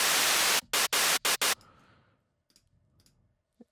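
A synthesizer noise layer in Serum 2 plays as loud full-band white-noise hiss, first a sustained burst and then four short rhythmic chopped bursts, followed by a quieter fading tail and a few faint clicks.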